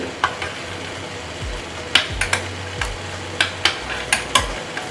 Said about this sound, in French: Donc là, je vais essayer de remuer juste un peu.